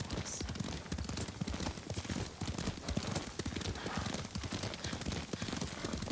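Horse hooves clip-clop in a steady galloping rhythm while riding in the video game Ghost of Tsushima, with the occasional whinny and characters' dialogue over the continuous hoofbeats.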